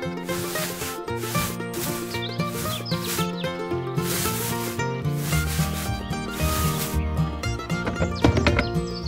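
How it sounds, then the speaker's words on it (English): A wool pressing machine processing sheep's wool runs steadily with a continuous rubbing, scraping texture and repetitive mechanical rhythm, loud and close throughout, with no voices. "So, this is the wool pressing machine!"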